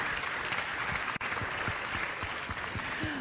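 An audience claps steadily at the regional Talents des Cités awards ceremony, warm sustained applause with a brief dip midway and a few faint voices underneath.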